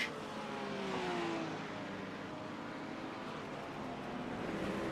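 A Corvette race car in a sim racing endurance event at Watkins Glen drones past with a steady engine note that swells and then gradually fades, alone and fairly faint.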